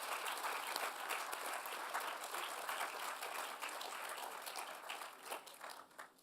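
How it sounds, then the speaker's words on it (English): Sustained applause fills a commencement ceremony as the audience claps for Master of Science in Applied Life Sciences graduates, a dense steady wash of many hands that eases slightly near the end. "Let's give a round of applause to all of the recipients of the Master of Science in Applied Life Sciences"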